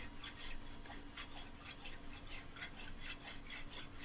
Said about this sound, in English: Just get an old rasp.